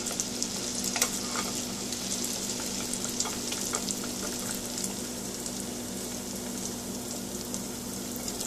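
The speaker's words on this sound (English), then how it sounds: "Even this one you need to fry both sides." Mangalorean rice pancake batter sizzles and fries in hot oil in a pan, a steady close crackling hiss with scattered sharper pops and no talking.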